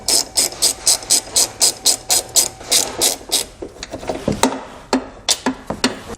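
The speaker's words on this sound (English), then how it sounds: "We'll use an 18mm socket to remove those." An 18mm socket on a ratchet clicks rapidly and loudly in even bursts while removing tow hook bolts under a 2019 Infiniti QX60, followed by slower irregular clicks and clunks.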